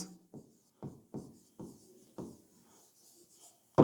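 Pen or marker writing out a program line, a short series of about six scratchy strokes, close and fairly quiet, ending with a louder tap.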